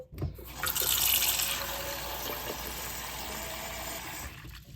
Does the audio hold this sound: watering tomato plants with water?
yes